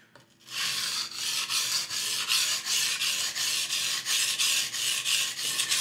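A dull steel knife ground on a low grit whetstone with heavy hand pressure, a rhythmic series of scratchy rasping strokes, close and steady, about a dozen passes with no talking.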